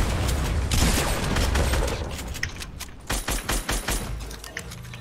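Gunfire in Fortnite Battle Royale: a loud, sustained burst of rapid shots and booms, then a series of distinct punchy reports in quick rhythmic succession near the end.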